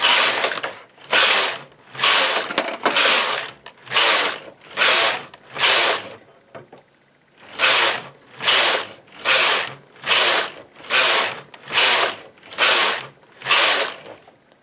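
A knitting machine carriage pushed back and forth knitting rows of ribbing, loud rhythmic mechanical whooshing and clattering passes about twice a second, with a short pause midway before the strokes resume.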